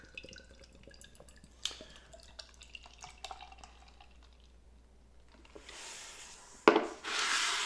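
Marble Fox Brewing Torchlight Tiki Sour IPA is handled with small clinks and rubbing sounds, then poured into a glass in a loud, close, fizzing rush near the end.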